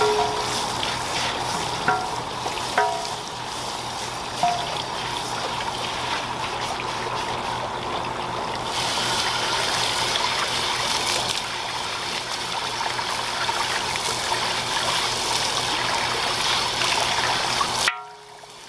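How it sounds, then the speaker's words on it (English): A plastic flower pot container is scrubbed with water, giving a continuous wet swishing and trickling with faint scraping strokes, steady and close for over seventeen seconds before it cuts off. "I'm going to go in and scrub this container up really quick"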